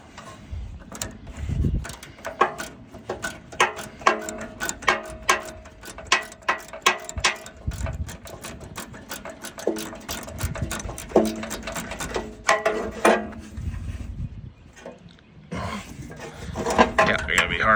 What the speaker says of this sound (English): Easy to turn with the wrench, of course.